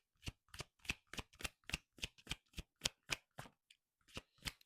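Oracle cards shuffled by hand in a run of about fifteen crisp, evenly spaced riffling flicks, close and clear with no talking.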